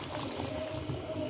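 Water poured into a pot of lamb karahi masala, a steady close pouring and trickling wash that runs unbroken for just over a second.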